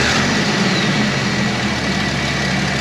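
The 4.0-liter engine of a 1995 Jeep Wrangler runs steadily after a restart, a loud, close, continuous idle with a low rumble and broadband mechanical noise.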